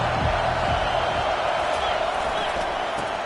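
Stadium crowd in College Football 25 roars steadily as a broad, continuous wash of cheering and noise, loud throughout, with a faint commentary voice beneath it.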